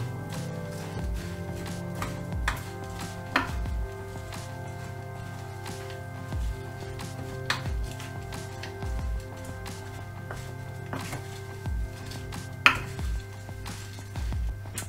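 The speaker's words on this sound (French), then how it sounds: "Et pendant ce temps, je continue à mélanger." Homemade granola mixture is stirred in a bowl, producing sparse, close taps and soft scrapes at irregular intervals over a faint steady hum, with no one speaking.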